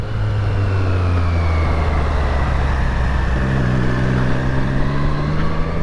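A Triumph Street Triple RS motorcycle in sport mode accelerates up a highway on-ramp, its engine note climbing steadily in pitch over a thick bed of wind rush, with no voices.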